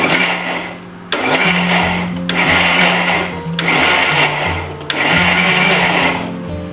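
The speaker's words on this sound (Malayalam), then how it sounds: "ആദ്യമേ തന്നെ ഭയങ്കര സ്പീഡിൽ അടിക്കരുത്. പതുക്കെ പതുക്കെ ഇതൊന്ന് മിക്സ് ചെയ്ത് എടുക്കുക." An electric hand mixer whirs loudly and steadily as it beats eggs and sugar for a marble sponge cake, running in several long bursts with brief drops in pitch between them and no talking.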